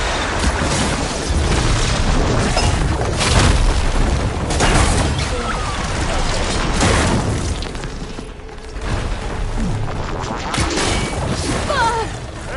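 Heavy gunfire and explosions in a video game combat scene, loud booms and crashing impacts rolling almost continuously with brief lulls.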